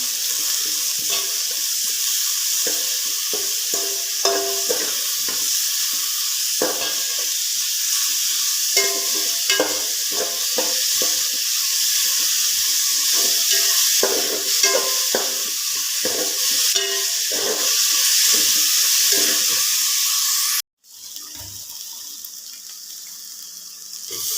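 Onions sizzle in a pan, a constant bright frying hiss running close and steady, broken by scraping stir strokes, with a sudden short cut-off near the end before the sizzle resumes.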